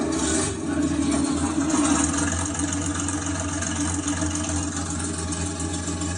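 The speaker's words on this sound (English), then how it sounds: "The next switch is engine start. We have engine start this way." The simulated engine sound of an Armortek Tiger RC model tank hums steadily at a constant idle, a low mechanical drone with a faint buzzing texture and no speech.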